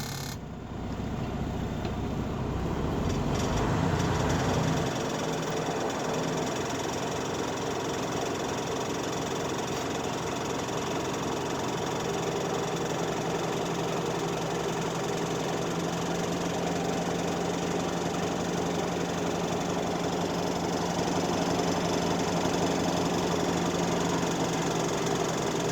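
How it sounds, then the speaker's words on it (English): A truck engine cranks and starts, then revs to no more than 1500 RPM to build air brake pressure, settling into a loud, steady, rumbling drone with no talking. "Put the clutch in, turn the key to start up the engine."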